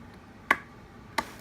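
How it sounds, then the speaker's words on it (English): Two sharp, isolated clicks from a loose part being worked, spaced under a second apart, close and crisp against a quiet background. "there's that clicking sound, which means something's loose"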